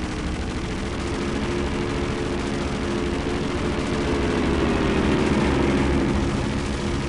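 Airplane engines in The Emperor's Tomb video game drone steadily throughout, a loud continuous low rumble that swells slightly toward the end, with no voices over it.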